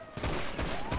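Rapid bursts of gunfire in a police roleplay video game, several loud shots in quick succession with a faint rising tone beneath.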